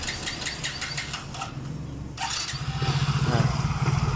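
A Yamaha Mio J scooter engine with a stalling fault at full throttle is cranked and catches, then settles into a close, steady idle for the last couple of seconds, with no talking.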